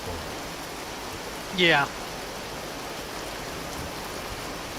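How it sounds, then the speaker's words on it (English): Loud rain pours in the video game Vintage Story, a steady even hiss of falling water running through the whole moment, with a brief chirping game sound and a short spoken word over it. "That rain is really loud outside."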